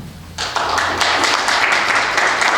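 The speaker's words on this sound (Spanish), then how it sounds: "Démosle un aplauso." An audience applauding at a lecture on Mexican typical orchestras, a burst of many hands clapping that begins abruptly and continues steadily at moderate loudness, with no voices.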